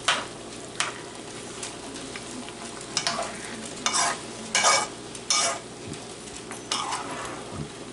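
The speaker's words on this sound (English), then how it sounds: "See, it's starting to brown really nice in there." Ground hamburger browns in a pan, a soft steady sizzle under repeated scraping stirs of a utensil against the pan, close by and without talk.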